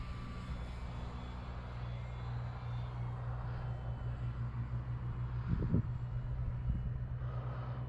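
A Dynam BF 109 radio-controlled model airplane hums steadily through the air during landing practice, its engine drone moderately distant and continuous, with a brief louder low rumble near the end.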